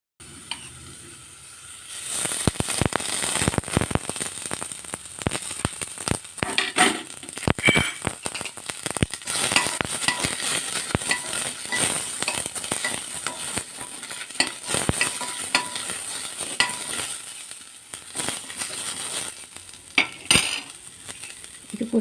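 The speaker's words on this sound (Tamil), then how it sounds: "இப்போ இதில் கொஞ்சம் சின்ன வெங்காயம், ஒரு பூண்டு, ஒரு காஞ்ச மிளகாய், கொஞ்சம் மட்டும் எண்ணெய் ஊற்றி வறுத்துக்கலாம்" Small onions, garlic and a dried chili fry in a little oil, giving a steady sizzle broken by repeated scraping and stirring clatter of a utensil against the pan, close and fairly loud throughout.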